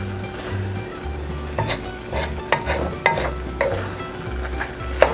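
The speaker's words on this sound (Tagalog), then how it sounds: "Ngayon po ay hahaluin na natin itong ating malagkit." Sticky rice (malagkit) being stirred in a pan over low heat for ube biko, a series of soft scraping and rubbing strokes at a steady pace over a low background hum.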